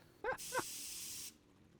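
In a Dota 2 match, a player triggers an in-game spray. Two short chirps lead into a bright, sustained hiss lasting about a second, which then stops abruptly and leaves faint background noise.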